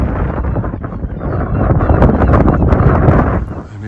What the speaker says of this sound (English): Crazy windy up here too, but it was worth coming up here